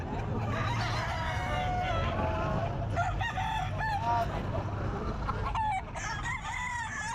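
Several sweater gamefowl roosters, one about 11 months old, crow repeatedly at a busy pet market, loud, overlapping cock-a-doodle-doos over clucking and a constant crowd murmur.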